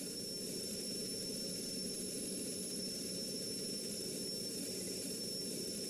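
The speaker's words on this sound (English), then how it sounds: "Meteors continuing to take off." Gloster Meteor jets taking off at an airbase in the Strike Fighters 2 game: a steady, continuous jet engine roar with a high whine on top, even and unbroken throughout.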